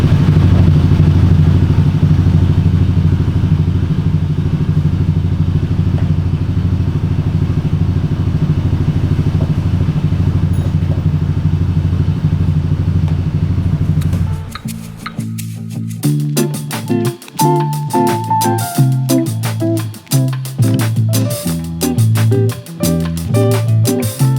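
A scooter engine with a CVT drive, just fitted with a new battery, runs at a steady, loud idle for about fourteen seconds, then gives way to irregular mechanical clattering and knocking close by.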